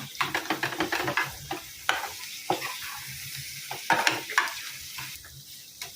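Boiled, mashed potatoes stirred into a frying yellow potato bhaji, with a spoon scraping the pan in quick rhythmic strokes over a steady close sizzle, slowing into scattered scrapes.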